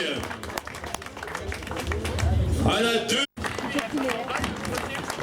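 Crowd applause for a cyclist mounting the podium at an amateur road race, steady clapping and cheering beneath an announcer's voice, with a brief dropout near the end.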